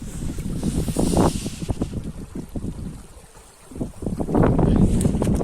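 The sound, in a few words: water sounds and wind while sailing a sailboat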